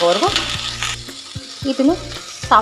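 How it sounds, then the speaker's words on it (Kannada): Onions and tomatoes fry together in a pan for street-style masala puri, with a loud close sizzle broken by stirring scrapes and short squeaky, tonal bursts. "ಟೊಮೊಟೊ ಮತ್ತು ಈರುಳ್ಳಿ ಎಲ್ಲ ಸ್ವಲ್ಪ ಫ್ರೈ ಆಗಿದೆ"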